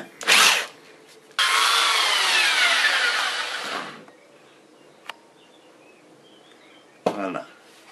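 Power drill boring holes in wood for a rustic stool, heard as two close, loud whirring bursts, a short one and then a longer one of about three seconds, followed by clicks and a brief clatter.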